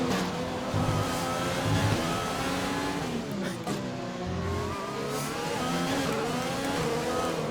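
An F1 car engine in the F1 2020 racing game at the Australian GP, a loud, continuous high-revving whine that rises and falls steadily through gear changes, with no voices over it.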